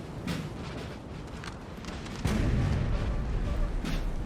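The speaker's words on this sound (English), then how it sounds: "Got their artillery and infantry starting to push forward from France." Artillery fire on a Napoleon Total War battlefield, distant booming cannon shots rumbling over a continuous battle din, with a heavier blast swelling midway.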